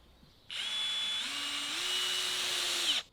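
Cordless power drill driving a screw into wooden shutter boards, a close steady whine that rises slightly in pitch as it runs for about two and a half seconds before stopping abruptly, with no speech.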